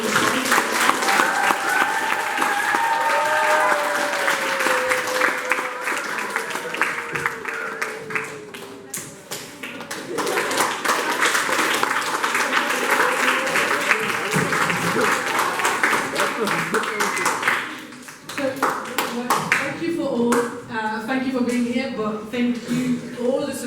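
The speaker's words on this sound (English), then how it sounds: "Let's give her a round of applause." Loud audience applause at a TEDx event, dense steady clapping from a large crowd that briefly dips, then surges again with scattered individual claps toward the end.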